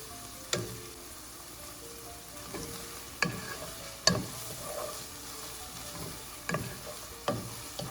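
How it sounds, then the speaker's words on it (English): Meat, onions and sliced garlic sauté in a pot for bean stew with beef, a soft continuous sizzle punctuated by several distinct scraping knocks of a spoon stirring, fairly quiet and close. "stir the meat, onions, and the garlic for another 2 minutes."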